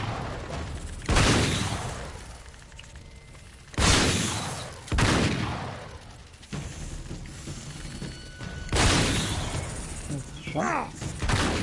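Gunfire in an Uncharted 3 firefight cracks out in several loud separate bursts a few seconds apart, each decaying into echo, with someone briefly speaking in between.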